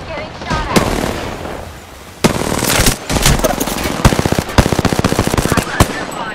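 Gunfire in Apex Legends: a loud single shot, then rapid bursts of automatic fire with sharp, evenly spaced reports, close and punchy, with brief in-game voice lines among the shots.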